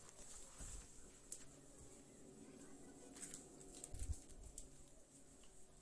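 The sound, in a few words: domestic birds cooing while being fed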